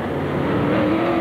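A dirt modified race car at Penn Can Speedway revs hard and close, with a loud, steady engine roar and a rising pitch toward the end, no voices over it.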